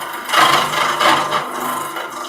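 A wooden tenon is shaped by hand with a rasp or file: a few close, rough scraping strokes rub rhythmically against the wood.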